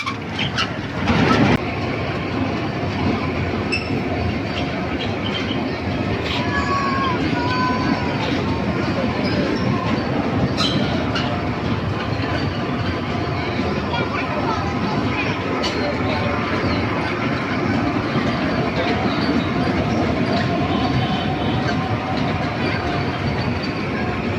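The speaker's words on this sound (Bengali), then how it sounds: "আমরা এখানে আরেকটা শিশুদের ট্রেন দেখতে পাচ্ছি" A children's amusement park train runs at Karnaphuli Shishu Park in Agrabad, Chattogram, with a steady loud rumble and rolling wheel noise sustained throughout, mixed with crowd chatter and general outdoor park bustle.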